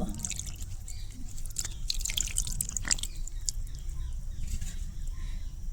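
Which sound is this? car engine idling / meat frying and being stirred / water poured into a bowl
water poured into a bowl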